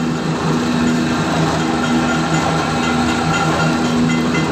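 A machine for pressing oil runs steadily, giving a loud, continuous mechanical drone with a faint tonal hum throughout and no voices.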